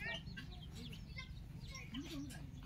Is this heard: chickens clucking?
yes